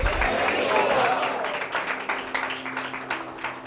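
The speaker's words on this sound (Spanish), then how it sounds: "Un aplauso para Carlos" Church congregation applauding for a man named Carlos, a broad crowd clapping that swells early and then thins into looser, uneven claps over several seconds.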